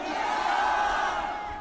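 A large crowd at a political rally roars in one sustained shout, loud and unbroken, with many voices blended together and no single speaker standing out.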